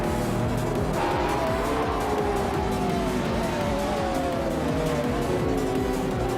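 V12-powered race cars with aggressive aerodynamics screaming around a circuit, their loud, continuous engine roar layered with sustained tire squeal and skidding from start to finish.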